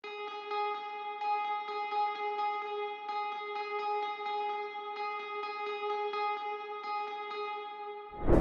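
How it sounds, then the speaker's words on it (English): A single sustained note from a Contact Electric Sunburst electric guitar drenched in Valhalla vintage reverb, ringing steadily with soft repeating pulses and a distant, washed-out tail, alone without voices. "For the next step we add an electric guitar that just play one note throughout the whole pattern"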